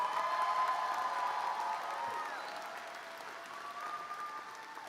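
Warm applause for a graduating speaker at a psychology school commencement ceremony, a large crowd clapping with a few whoops, slowly fading, and a faint voice underneath.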